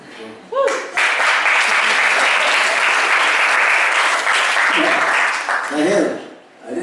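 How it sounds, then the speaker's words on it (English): Loud, sustained applause from a youth retreat audience bursts in after a short bit of talk, fills the room evenly, then tapers with voices speaking over the fading claps. "I didn't realize my answer would give such applause."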